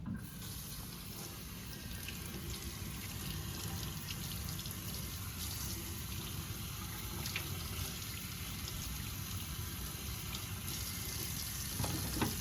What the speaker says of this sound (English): going to wash my hands.